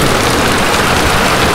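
Heavy rain pours steadily onto a fishing boat ahead of a thunderstorm front, a loud, dense, continuous hiss with no gaps.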